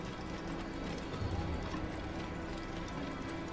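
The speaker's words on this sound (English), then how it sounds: "I'll just run into everyone in a very exciting manner, and then piss off everyone as I ride my horse around" A horse gallops in the Assassin's Creed video game, steady hoof clip-clops running continuously under a dense bed of game ambience, fairly quiet throughout.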